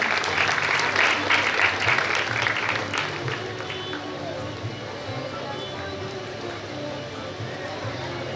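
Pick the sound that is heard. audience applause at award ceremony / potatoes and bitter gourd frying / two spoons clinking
audience applause at award ceremony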